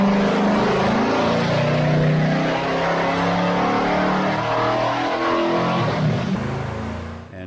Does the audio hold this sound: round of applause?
no